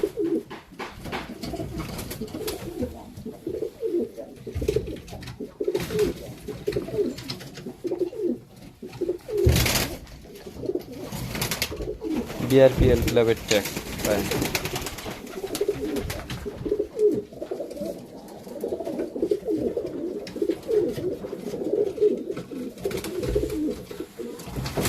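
Racing pigeons coo repeatedly in a loft in Bhanga, Faridpur, soft rhythmic cooing close by with wing flutters and someone talking over them.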